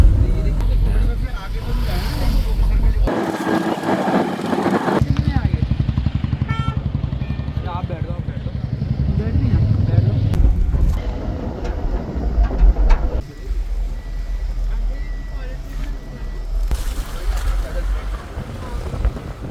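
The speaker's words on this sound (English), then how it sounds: "Finally inside the car for the next 5 hours." Inside a car on the way to a Himalayan trek, road and engine rumble runs steadily with wind noise and bumps, while people talk over it throughout.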